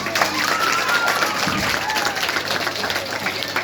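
An audience claps after ghee is set alight without a matchstick in a science-versus-magic demonstration, a dense, steady patter of hands mixed with murmuring voices.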